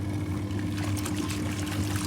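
A Superbrite portable washing machine runs with water sloshing and pouring inside the tub, over a steady low motor hum, fairly close and without talk.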